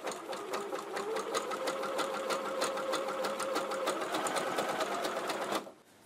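A Janome QC2325 sewing machine running a small zigzag stitch, a close, rapid, even mechanical chatter for about five and a half seconds before it stops abruptly.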